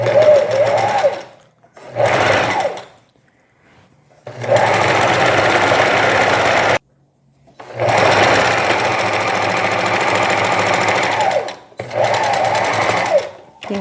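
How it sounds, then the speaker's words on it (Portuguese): A domestic sewing machine zigzag stitches the side seam of a knit fabric jacket in several loud, close bursts of rapid clatter, separated by short pauses. "Agora eu vou passar a mesma costura em zigue-zague, fechando aqui a lateral"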